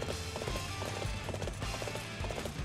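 Horse hooves clip-clopping in the Dynasty Warriors 8 Empires video game, a quick steady gallop rhythm, close and moderately loud, set against battle ambience.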